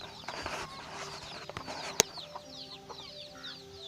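Chickens on a rural Philippine poultry farm cluck and call repeatedly over feeding time, a busy overlapping chorus at moderate distance with one sharp close sound partway through.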